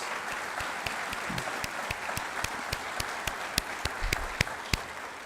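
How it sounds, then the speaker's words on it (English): Applause from an audience, a steady wash of clapping with several sharp, distinct claps standing out nearby. "just to give them a big round of applause"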